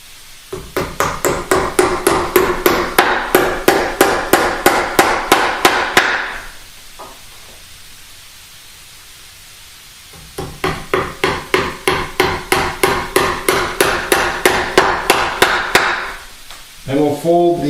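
Upholstery tacks are hammered into a wing chair being reupholstered, with rapid, evenly spaced sharp taps in two long bursts separated by a quiet pause and a few closing blows.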